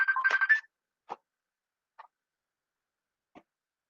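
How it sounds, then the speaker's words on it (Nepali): A mobile phone rings indoors with a short warbling electronic ringtone lasting about half a second, followed by a few faint, widely spaced clicks and then silence, with no talking. "एकैछिन ल फोन आयो"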